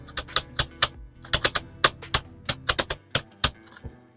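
Typing on a Spigen ArcPlay mechanical keyboard: a run of sharp, close, evenly loud keystroke clacks in an irregular rhythm, heard alone with no voices.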